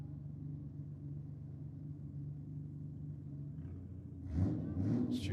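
A drag car warming up its differential at a night drag and burnout event gives off a low, steady droning rumble. Near the end it swells into a louder rise with brief sharper bursts.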